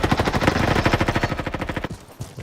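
Rapid automatic gunfire from the Roblox combat game Frontlines comes as a fast, steady burst of close, punchy shots for about two seconds, then stops.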